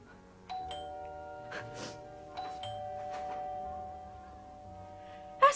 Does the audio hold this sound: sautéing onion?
no